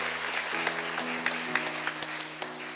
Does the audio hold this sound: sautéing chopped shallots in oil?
no